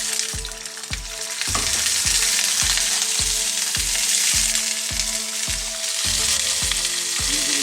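Clams tossed into a pan of golden garlic frying in oil set off a loud, steady sizzle, with repeated rhythmic scraping and stirring knocks close up throughout.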